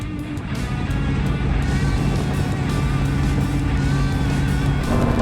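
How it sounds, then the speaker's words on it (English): Dodge Ramcharger 4x4 with Holley Sniper EFI and a swapped automatic overdrive transmission cruising at 70 mph, a steady low engine drone mixed with road and wind noise heard from inside the cab, no voices. "We're now cruising comfortably at 70 miles an hour, turning a lot less RPM than we were before."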